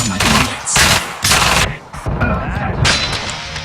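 Loud bursts of automatic gunfire in the game Killing Floor 2 come in several rapid volleys with short gaps between them, close and dominant, with faint voices underneath.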